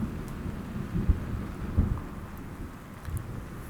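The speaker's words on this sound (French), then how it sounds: "L'orage couvre tout." A thunderstorm with a steady wash of rain and low rumbles of thunder rolling in a few times, heavy and enveloping, no voices.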